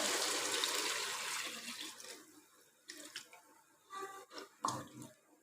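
Water runs steadily and fairly loudly into a cooking pot of kaddu gosht for about two seconds, then tapers into scattered splashes and drips as the flow stops.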